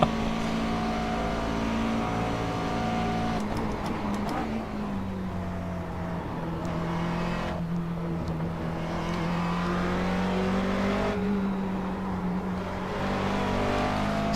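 McLaren 12C GT3 race car engine in iRacing at Spa, droning and revving steadily through gear changes, loud and continuous with brief dips between shifts.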